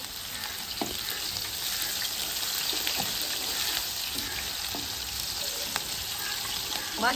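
Onions frying in hot ghee alongside browned fenugreek, a constant close sizzle with occasional stirring scrapes and knocks, no voices.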